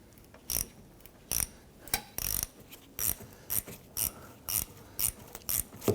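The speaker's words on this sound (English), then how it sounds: "I'm using a 10mm on this hose clamp." A 10mm ratchet clicks in short, evenly spaced bursts, about a dozen in all, as it loosens an old hose clamp on the fuel filler neck of a 2006-2012 Toyota RAV4. The clicking is close and sharp with no talk.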